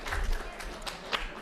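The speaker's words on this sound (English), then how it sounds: "a round of applause for volunteers" Brief applause from an audience thanking volunteers at a lecture, a short burst of scattered clapping heard close up at moderate volume.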